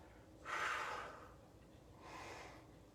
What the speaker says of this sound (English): exhale, and inhale